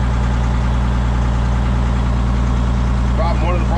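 A tractor engine idling at about 1,000 RPM, a steady, loud, close drone with an even low hum that never changes, with brief faint voice-like sounds near the end.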